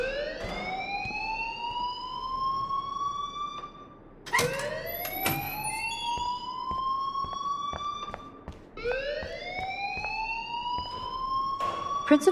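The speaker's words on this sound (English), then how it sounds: "please turn off that alarm since that's your job" A school fire alarm in the Life is Strange video game wails in rising electronic sweeps, three long upward glides repeating steadily and loudly, with faint clicks between cycles.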